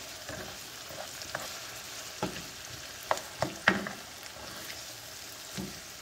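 Peppers, onions, tomatoes and potatoes fry in a pan with a steady close sizzle, broken by several sharp clicks and scrapes of stirring.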